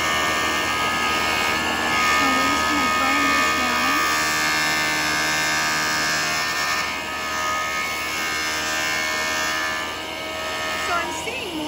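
A JOOLTOOL lapidary wheel polishes a stone, its steady electric whine running loud and continuous throughout, with someone speaking over the motor hum.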